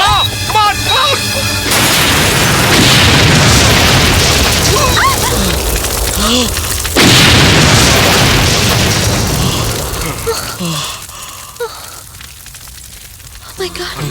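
A car bomb goes off in the Telugu film Konchem Touchlo Vunte Cheputanu: a loud, sustained roaring blast swells again midway, then rumbles and crackles down into scattered debris, with faint voices beneath.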